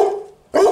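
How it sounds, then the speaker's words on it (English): A dog barks twice in close succession, loud and near, each bark a sharp burst with a short gap between, heard alone. "What's that dog doing there? You gone mad there?"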